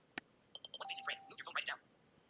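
A Google Pixel 8a camera gives selfie guidance as a quick series of short electronic beeps and tones, faint and close, mixed with brief spoken prompts.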